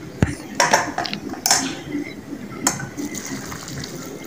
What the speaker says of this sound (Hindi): ये पानी डाल दिया मैंने